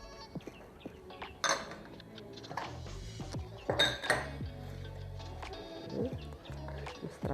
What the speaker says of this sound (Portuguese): Vamos mexer bem, homogeneizar bem, para que ele fique com aquele brilho maravilhoso